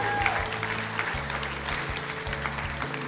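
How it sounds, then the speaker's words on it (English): An audience at a Women in Ag 2017 event breaks into a round of applause, a steady wash of many hands clapping that carries on throughout, with faint voices beneath. "give me a round of applause."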